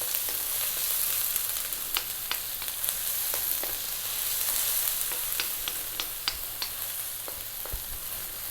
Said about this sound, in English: We're now going to drop in the onion. And we're on fairly high heat, as you can hear.